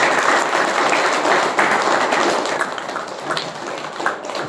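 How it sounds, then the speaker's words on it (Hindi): Sustained audience applause at a diet-system seminar lecture, a dense even wash of many hands clapping for several seconds, loud and close with no speech over it. "तो अभी तालियां बजा ही दीजिए।"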